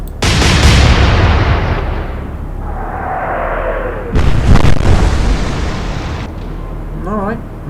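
Naval ship guns fire shells in Atlantic Fleet: a loud opening blast booms and rumbles away, then a second heavy report lands midway with a long rolling decay, and a voice is briefly heard near the end.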